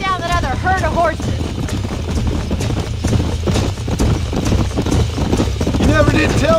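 Horse hooves trotting in the video game Red Dead Redemption, a fast steady clip-clop close up and loud, with characters talking over it throughout.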